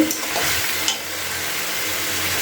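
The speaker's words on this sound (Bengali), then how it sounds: "মশলাগুলো দেওয়ার পরে আমি একটু নাড়াচাড়া করে নিয়েছি দেখতে পাচ্ছ" Spices frying in a pan for a broccoli and paneer dish, a close, loud steady sizzle with a couple of quick scraping stirs at the start, no speech.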